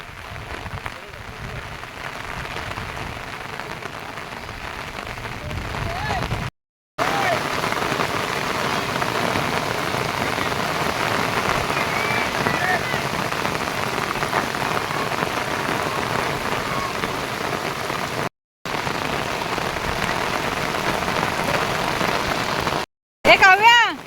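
Heavy monsoon rain pours down over paddy fields in the Konkan countryside, a dense, loud, steady hiss broken only by a few brief gaps, with voices occasionally talking beneath it.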